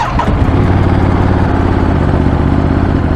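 A Ducati Monster 937cc L-twin motorcycle fires up and settles into a loud, close, lumpy idle with an even throbbing beat and no talk over it.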